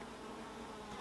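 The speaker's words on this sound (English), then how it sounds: "So smoke a few times over here to kind of get the bees settled down a little bit." Honey bees buzz steadily around an open beehive during a beekeeping inspection, a continuous faint drone with no talk over it.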